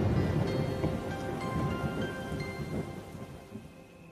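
Steady rain pours in a cartoon scene while thunder rumbles loud and close, the downpour dense and continuous throughout with no one talking.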